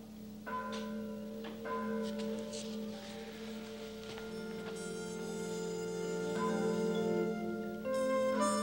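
Church bells peal continuously, their layered metallic tones overlapping and ringing on without pause at moderate distance, with no voices.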